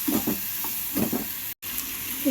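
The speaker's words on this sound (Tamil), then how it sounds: "வாழைக்காய் மசாலாவை இதில் ஆட் பண்ணிக்கலாம் எல்லாம் ஒன்று சேர்கிற மாதிரி நல்லா வதக்க ஆரம்பிக்கலாம்" Raw banana masala sautéing in hot oil for a valakkai fry, a close bright sizzle with repeated scraping stirs in bursts, one short break in the middle.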